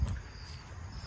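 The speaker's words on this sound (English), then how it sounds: "I hear crickets and stuff" Crickets chirp outdoors near water, a faint steady high trill sustained through a brief quiet moment with low ambient rumble underneath.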